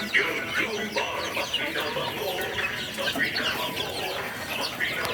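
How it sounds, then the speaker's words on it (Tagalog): Chickens cluck continuously and close by in a yard, a busy overlapping chorus of clucks and short calls at steady loudness throughout. "Kita natin yung ibang mga manok doon."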